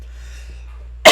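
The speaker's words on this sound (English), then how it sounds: "Just dry cough." After near silence with a low steady hum, a single loud, abrupt dry cough comes from someone narrating a screen-recorded web debugging session.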